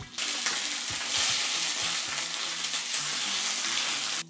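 A pork steak for tonteki sears in a pan, giving a loud, continuous close-up sizzle and spatter of hot fat that runs unbroken for about four seconds before stopping abruptly.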